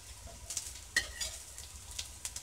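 Meatless sausage patties bound with egg and oatmeal fry quietly in a hot pan on a stove, a soft, steady sizzle with a few faint clinks and crackles, low in level and with no talking.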